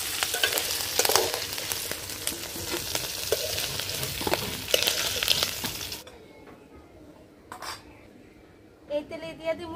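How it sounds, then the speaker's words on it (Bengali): Shrimp fry in hot oil with a loud close sizzle and stirring for about six seconds, then the pan goes quiet apart from a few utensil clinks and scrapes. "চিংড়ি ভাজা হয়ে গেছে হ্যাঁ হ্যাঁ এইবার দেখেন এই যে চিংড়ি ভাজা হয়ে গেছে"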